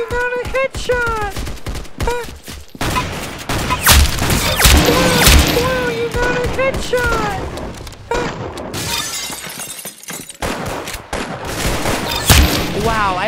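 Gunfire in a video game shooter, a dense loud stream of sharp shots and shattering impacts, with excited voices and game sounds layered over it.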